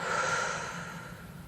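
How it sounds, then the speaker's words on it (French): A long, steady exhale pushed out through the mouth during a guided breathing exercise, close and fairly loud, a breathy hiss that fades slightly over about a second and a half with no talking over it. "et souffle."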